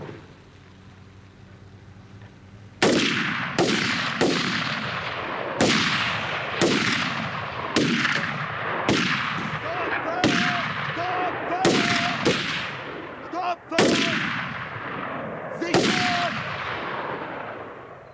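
Gunfire in a military shooting-range scene of a German drama: about ten sharp, loud single shots at uneven intervals, each with a ringing, decaying echo, over a low background hum.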